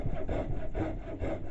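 A saw cuts through hard hickory wood for a ball peen hammer handle, with steady back-and-forth rasping strokes in an even rhythm, close and fairly loud with no talk.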